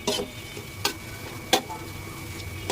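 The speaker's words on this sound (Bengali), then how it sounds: "এই যে পেঁয়াজগুলো ভেজে নিলাম।" Onions frying in a pan, a steady close sizzle broken by three sharp stirring clacks of a utensil against the pan, with no talking.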